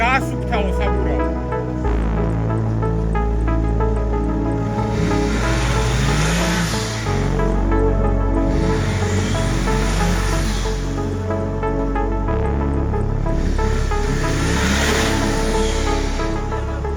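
A car revving hard in reverse to clear mud from a tyre on a difficult off-road crossing, the engine rising and falling in repeated surges amid spraying mud, with people talking and shouting over it.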